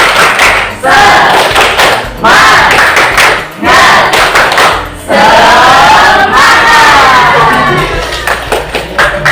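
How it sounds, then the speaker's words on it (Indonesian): A class of students performs a rhythmic spirit clap chant, loud unison clapping bursts alternating with shouted chanting voices, repeating in sections separated by short pauses, close and energetic. "Tepuk semangat"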